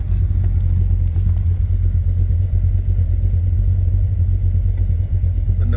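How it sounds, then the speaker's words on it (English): Big block engine idling steadily, a loud, continuous low rumble that holds evenly throughout with no revving and no voices. "hopefully you can hear the sweet sound of my big block engine"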